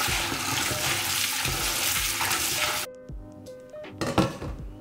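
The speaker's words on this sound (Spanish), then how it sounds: "Los frijoles ya lo había limpiado, ahorita nada más lo estamos lavando." Tap water runs steadily and loudly over beans being rinsed in a kitchen, a broad rushing flow that cuts off partway, followed by quieter clatter and splashing as the beans are handled.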